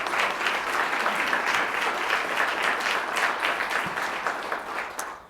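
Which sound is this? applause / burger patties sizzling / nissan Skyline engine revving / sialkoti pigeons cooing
applause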